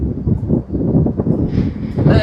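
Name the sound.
strong wind during a storm at night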